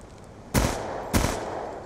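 Two sharp, loud gunshots crack about half a second apart from a PDW submachine gun loaded with FMJ rounds in Black Ops 2 hardcore mode, each with a short ringing tail and no voices.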